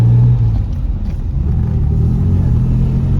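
A 1970 Jaguar E-type Mark II with its 4.2 engine accelerates hard from close by, giving a loud, steady, deep rumble that holds throughout, with no talk over it.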